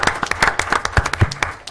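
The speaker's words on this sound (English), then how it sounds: "We'd love to give them a round of applause." Applause for a city streets crew at a municipal council meeting, a short burst of hand clapping from a small room of people, close and fairly loud with uneven claps, no talking.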